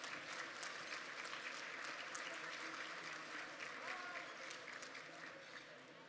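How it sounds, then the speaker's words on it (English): A crowd at the 2020 All Sports Association awards applauds hall of fame inductees with dense, steady clapping that carries through and eases slightly toward the end. "How about a round of applause for these three people and all that they've done?"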